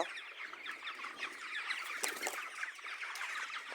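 Chickens cluck steadily at a farm, a dense run of soft, overlapping calls at moderate distance with no voices among them.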